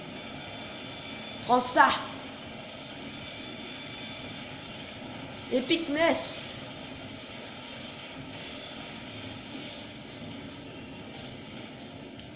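A helicopter in the Just Cause 3 video game gives off a steady, moderate engine drone during an attack on an enemy base, with someone briefly speaking French over it.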